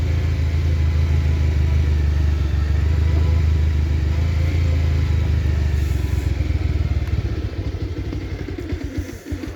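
A motorcycle descends a steep mountain road at Chimbuk hill near Thanchi in first gear, its engine a loud, steady, close rumble with clattering that grows more uneven near the end.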